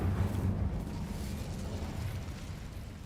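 A fire spell cast in a video game erupts as a deep, rumbling roar of flame that swells at the start and then stays as a steady, loud whoosh.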